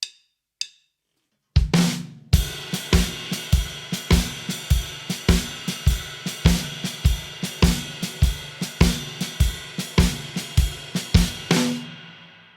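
Drum kit shuffle played alone, with a ride cymbal ringing in a swung pattern and a snare hitting the same rhythm, steady and close after a couple of count-in clicks.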